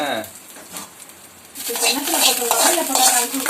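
Tempering spices sizzle and crackle loudly in hot oil after a quieter stretch of scraping and stirring, with a voice faintly in the background.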